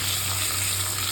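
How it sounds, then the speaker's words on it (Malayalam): Chicken pieces fry in butter in a pan, giving a close, steady, dense sizzle that stays even and continuous throughout, with no voices. "വരുന്നതിനനുസരിച്ച് ബട്ടറിൻ്റെ സൗണ്ട് നമുക്ക് കൂടുകയെന്ന് വെച്ചാൽ ബട്ടർ ചിക്കനിൽ കയറി പിടിക്കുന്നു"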